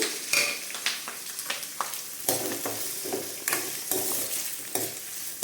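Curry leaves and chopped onions fry in a little oil while a spoon scrapes and stirs them in the pan, giving repeated close scraping strokes over a steady sizzle with no talking.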